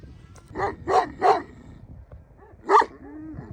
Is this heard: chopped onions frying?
no